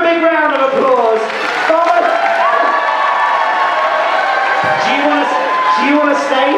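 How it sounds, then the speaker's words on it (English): A Mardi Gras carnival crowd cheering and shouting loudly, with whoops and children's voices rising over steady crowd noise throughout. "Give her a big round of applause."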